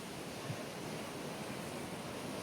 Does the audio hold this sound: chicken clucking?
no